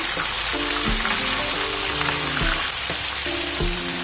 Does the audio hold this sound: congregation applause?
no